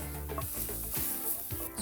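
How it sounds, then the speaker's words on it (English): Shallot sizzles in hot oil in a skillet, a steady close crackling fry with a few brief stirring scrapes, and no talking. "Once your oil is nice and hot, you can go ahead and add that shallot first."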